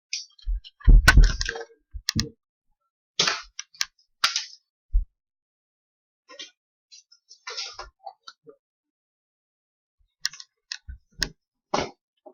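Toy Nerf guns fire foam darts in a backyard-style battle, giving sharp snapping pops scattered in small bursts with long quiet gaps between them, some close and loud, others fainter clicks.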